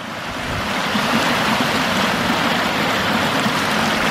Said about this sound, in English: there is a small waterfall coming from there